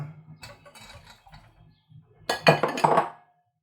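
Carrots go into a cooking pot for a vegetable couscous. Soft, light handling noises come first, then a sharp cluster of clattering clinks and knocks against the pot before everything falls quiet.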